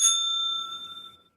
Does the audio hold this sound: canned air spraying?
no